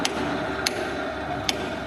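Hammer tapping a steel workpiece held in a lathe chuck to true it up, three sharp metallic knocks spaced about a second apart over a steady machine-shop hum.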